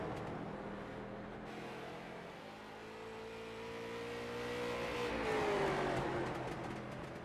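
Race car engine lapping an oval track in a racing game, a steady droning roar with rising and falling pitch as the car passes through the turns, building louder toward the end.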